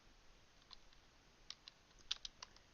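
Fingers tap out a word on a computer keyboard: a handful of faint, scattered key clicks that bunch up toward the end, close by in a quiet room with no voices.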